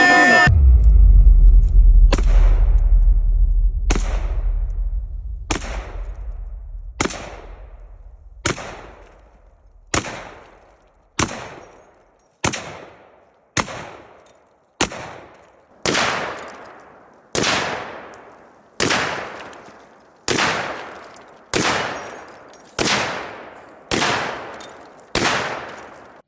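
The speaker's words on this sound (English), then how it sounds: "I just hip fired the bottles." Single heavy sniper-rifle shots ring out one after another at a steady interval of roughly a second and a half, each with a sharp crack and short decaying tail, as bottles are hip fired in a video game following an initial low rumble.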